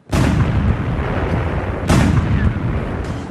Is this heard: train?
no